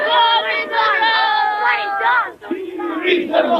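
A dense crowd of mourners fills the streets during a funeral cortege for a political martyr in Shkodër, Albania, giving a loud, continuous swell of shouting and chanting voices that briefly dips before surging again.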